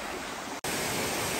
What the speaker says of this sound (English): But we're in the waterfall.